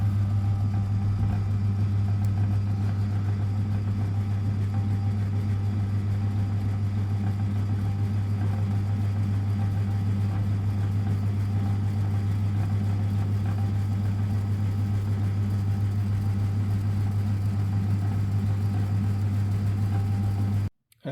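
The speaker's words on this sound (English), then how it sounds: "2mm center drill, and I'm just going to drill the screwdriver blade" A 2mm center drill cuts into a screwdriver blade taped to the Z-axis of a mill, a constant low motor drone with faint cutting noise above it, holding steady throughout before stopping abruptly at the end.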